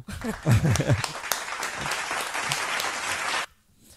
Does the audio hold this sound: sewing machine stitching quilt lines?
no